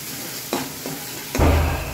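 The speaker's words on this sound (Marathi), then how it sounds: "ही पेस्ट आता चांगली परतून घ्यायची." Garlic paste sizzles and fries in a hot pan while being stirred, a steady hiss broken by a few scraping stirs, close and fairly loud with no talking.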